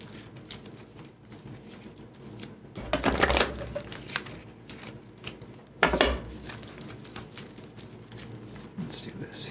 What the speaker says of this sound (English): Let's do a couple more shuffles here.